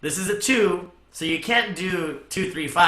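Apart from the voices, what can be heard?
No distinct noise like a dog, phone or traffic.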